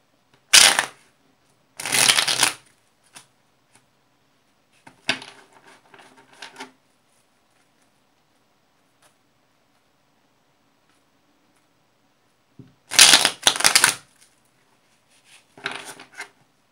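Tarot cards being shuffled in several separate bursts of quick riffling and flicking, close and crisp, with quiet pauses between the bursts.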